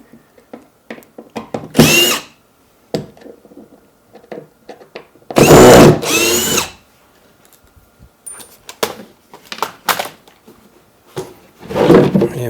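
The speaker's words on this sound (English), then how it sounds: "So let me get these screws out of here." A power drill spins screws out of plywood in a workshop, in several loud bursts of a few seconds each, separated by quieter clicks and handling noises.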